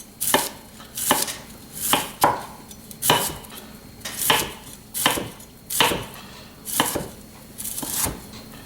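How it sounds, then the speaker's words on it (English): A knife cuts slices across cauliflower halves on a cutting board, producing about a dozen crisp, evenly spaced chops in a steady rhythm, loud and close with no talking. "lay the halves down, and then I'm going to just do some slices across like this."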